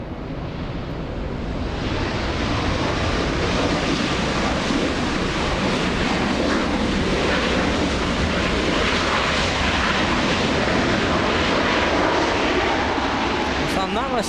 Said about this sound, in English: We have Southwest Airlines flying in from Chicago's Midway.